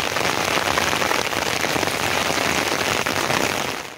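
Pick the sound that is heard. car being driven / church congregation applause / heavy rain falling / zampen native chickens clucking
heavy rain falling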